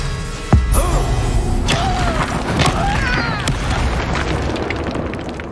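A spell cast in the Hogwarts Legacy video game, a burst of magical booms and whooshing pops over a steady bed of game music and effects, with a sharp impact near the start.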